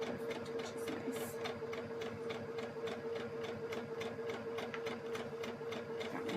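A sewing machine stitches hair into a stuffed heart-shaped pillow, running as a steady, rapid mechanical whir with an even stitching rhythm throughout, close and continuous with no talk.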